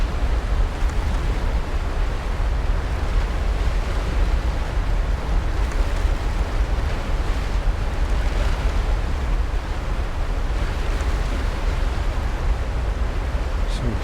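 River water in the video game Aporia rushes as a steady, dense wash, continuous and fairly loud throughout without any clear breaks.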